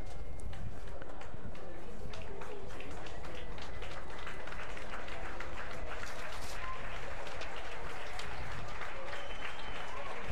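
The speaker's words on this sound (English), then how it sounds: "Some nice claps from the crowd here at Keno." Steady applause from a stadium crowd at an LA Galaxy versus Real Salt Lake preseason soccer match, continuous and dense for the whole stretch, with a distant roar of crowd noise underneath.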